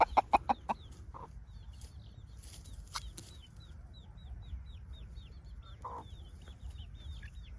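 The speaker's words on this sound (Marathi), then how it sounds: "नाथखुळा कोंबडा आहे, नाथखुळा." A village rooster with hens and chicks: a quick burst of sharp clucks opens, then soft repeated clucking and chirping peeps continue close by, with a wing flap and scattered louder calls, fairly faint overall.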